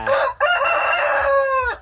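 A bantam rooster crows loudly and close by, one long drawn-out cock-a-doodle-doo with a brief break near the start.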